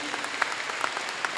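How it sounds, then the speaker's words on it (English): Short burst of audience applause at a school scholars celebration, scattered claps at moderate level, brief and thin rather than a full ovation. "let's give ourselves a big round of applause"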